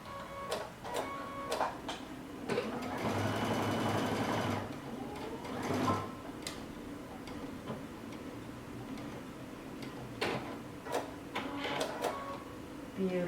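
Sewing machine stitching across a cape shoulder tab at a seam, heard in short bursts with a sustained run in the middle, separated by clicks and pauses from handling, close and moderately loud.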